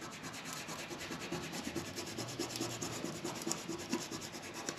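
Steady scraping rub by hand over the edge of a welded steel patch panel on a car body, a continuous close rasping texture with faint low background hum and no talk.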